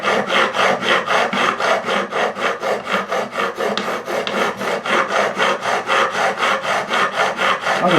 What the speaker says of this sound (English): I'm going to use my brand new levelling file